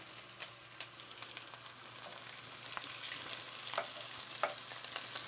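Cauliflower griddle cakes with cheese and breadcrumbs fry on a griddle, giving a soft, steady sizzle with small crackles and pops, close by and fairly quiet.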